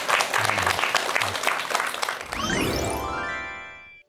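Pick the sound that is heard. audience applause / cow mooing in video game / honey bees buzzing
audience applause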